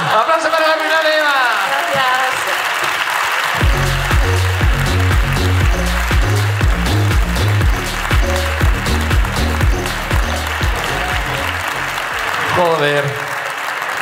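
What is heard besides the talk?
audience applause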